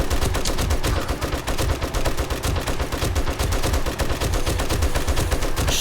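Rapid, sustained gunfire in the video game 7 Days To Die as a player sprays shots into a zombie horde, dense overlapping bursts loud and continuous throughout with no pauses.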